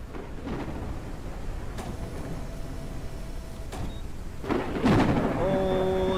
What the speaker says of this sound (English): Oh, the storm's still going on.